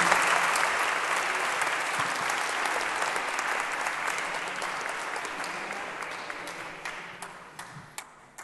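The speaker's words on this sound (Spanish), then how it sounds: "la doctora Cecilia Hidalgo, para quien pido un aplauso" An audience at the inauguration of the Congreso Futuro science conference in Chile bursts into sustained applause, a dense wash of clapping that slowly thins and fades over several seconds.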